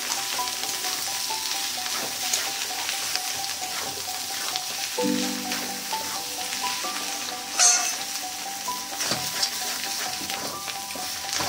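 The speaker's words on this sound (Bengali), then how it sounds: "একটু ভাজা ভাজা করে নেব ছাতুটাকে" A large batch of chhatu, about 3 kg, fries over high flame with poppy-mustard paste. A constant crackling sizzle runs close throughout, broken by several scraping stirs and a sharper clack of the spoon against the pan.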